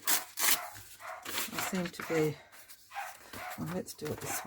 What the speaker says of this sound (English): apologies for any barking in the background